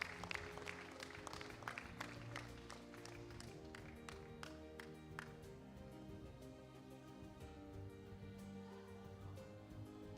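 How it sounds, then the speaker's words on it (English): A small group's scattered applause for a named individual at a church healing and salvation service, a few claps near the start that thin out while sustained music plays underneath. "Let's give a round of applause for Irvin."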